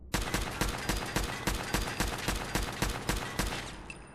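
Rapid automatic gunfire in the video game Fallout 4: a loud, evenly spaced burst of about a dozen sharp shots over roughly four seconds, with no talk.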